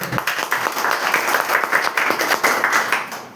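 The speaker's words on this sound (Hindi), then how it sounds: "चलिए एक बार जोरदार ताली हो" Audience applauding loudly at a talk, a dense burst of many hands clapping close together for a few seconds before fading.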